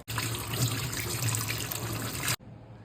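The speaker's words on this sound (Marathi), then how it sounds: "बटाटे छान धुवून घेतलेत" Water from a kitchen tap runs into a sink while potatoes are washed, a steady close splashing flow for a couple of seconds before the tap shuts off and the room goes quiet.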